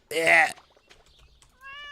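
A kitten lets out a loud, close meow at the start, then after a quiet pause a second, softer drawn-out mew rises at the end.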